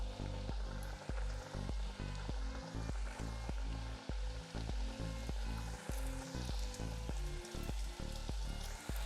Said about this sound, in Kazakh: қызарғанша қуырып аламыз.